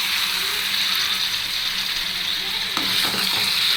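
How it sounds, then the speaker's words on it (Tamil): Chicken frying in a pan gives a loud, continuous sizzle up close, with a brief scrape of stirring near the end and no talking. "நல்லா ஃப்ரை பண்ணிக்கலாம்"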